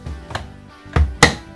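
Dyson V11 stand pole clunking into place on the official self-standing docking stand, heard as a few sharp close knocks, with the last two louder impacts coming in quick succession.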